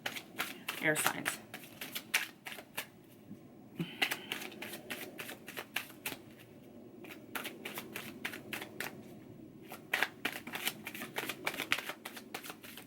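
Tarot cards riffle and snap in rapid bursts of crisp clicks, repeating in quick runs with short pauses, while a person speaks quietly at one point.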